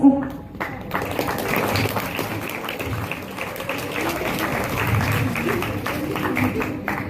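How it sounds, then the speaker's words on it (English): A crowd claps continuously, with dense applause at a steady level throughout. "I request everyone to give him a big applause."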